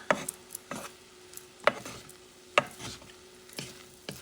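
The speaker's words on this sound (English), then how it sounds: "Quick stir so they don't stick together." A spoon stirs jasmine coconut rice in a pot over lowered heat, giving a few soft scraping strokes spaced about a second apart, close and fairly quiet, with no talking.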